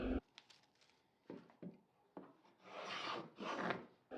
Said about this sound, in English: I'm just chamfering the edges so that it will slide easily in later on